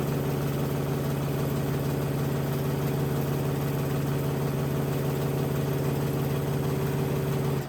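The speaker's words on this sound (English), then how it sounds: "I am going to sew a 1/4 inch on both sides." A sewing machine runs steadily and continuously, stitching a quarter-inch seam on a quilt block, with a close, even humming drone that stops abruptly at the end.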